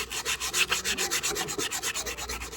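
Wooden birdhouse parts are sanded by hand in a steady back-and-forth rhythm of about a dozen rasping strokes, close and even, with no talking.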